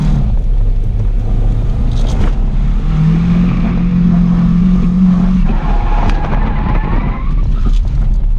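Nissan S12 drift car fitted with individual throttle bodies revs hard and steady at a drift event, its engine drone rising into a sustained tone mid-pass, with tire squeal and skidding coming through close and loud.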